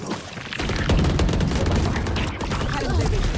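Gunfire in the tactical shooter game Valorant: a dense, continuous burst of rapid shots with booming impacts fills the whole moment, loud and close.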